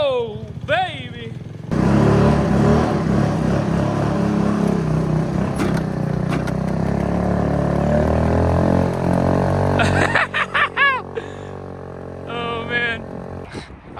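A small engine on a cheap secondhand machine cranks and catches, running rough and loud for several seconds before sputtering and stumbling as it fails to hold an idle, with brief talk at the start and end.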